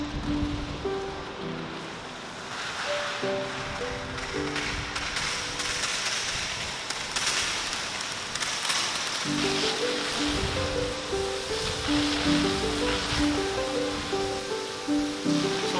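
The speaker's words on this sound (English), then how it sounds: "highly pressurized seawater will be used" A high-pressure seawater jet sprays across the steel walls of a ship's cargo hold, making a continuous rushing hiss that swells and recedes. Steady tonal music plays underneath throughout.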